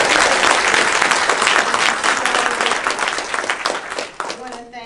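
An audience at a health equity forum applauds a guest's arrival, loud, dense clapping from many people that gradually thins and fades toward the end.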